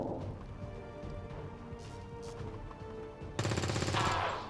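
Gunfire and a grenade blast in the XCOM 2 strategy game, a rattle of shots through the first part, then a sudden loud burst of blast and debris noise toward the end, fairly close.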